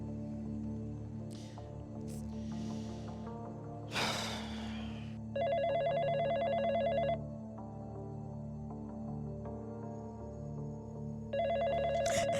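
A telephone rings on a theatre stage, two loud electronic trilling bursts several seconds apart, over a steady low hum with a few faint thumps and rustles between the rings.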